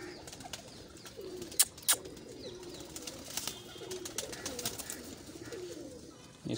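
A red Teddy Kamagar Golden Zeeray pigeon gives soft, close, repeated cooing with a few sharp clicks and light rustling.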